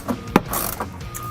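Hardware being fastened to secure a new S&B cold air intake box in a Toyota Tundra, short metallic clicks and ratcheting ticks in a quick irregular series, close and fairly quiet.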